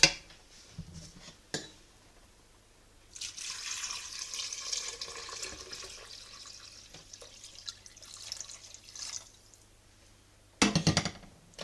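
Boiling water poured into a pot of carrots, vegetables and chickpeas for Algerian couscous royal, a steady splashing pour lasting several seconds, framed by brief clinks of a pot or utensil at the start and end.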